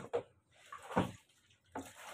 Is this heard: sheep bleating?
no